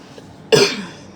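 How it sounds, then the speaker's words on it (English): A single short cough, close and fairly loud, in an otherwise quiet moment. "let me cough."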